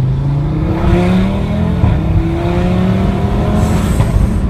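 An Audi RS3's loud exhaust roars and revs close by, the engine note rising and falling steadily with no talking.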